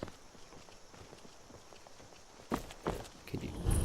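Footsteps in Skyrim, a soft, steady run of steps with a few louder, closer thuds near the end.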